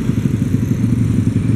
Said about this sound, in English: a lot of motorcycles, a lot of tricycles.